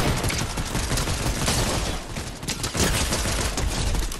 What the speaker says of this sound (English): Shoot him, Corey, shoot him.